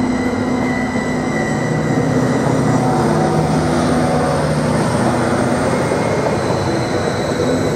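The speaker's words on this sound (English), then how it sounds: "755419 has just accelerated rapidly out of platform 2 en route to Norwich." A class 755 train roars steadily and loudly nearby at Ely station, its rumble and rising mechanical tones building as it accelerates rapidly away from the platform, with faint wheel squeal.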